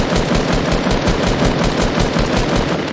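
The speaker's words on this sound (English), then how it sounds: "I hear a lot of shots down there." Rapid, continuous automatic gunfire from the video game Fortnite, a loud unbroken burst of closely spaced shots filling the whole moment with no voices over it.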